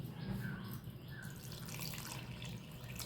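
Water pours into wheat flour batter for sweet kuzhi paniyaram in a home kitchen, a steady splashing trickle close by that runs without a break for about three seconds, with no voices.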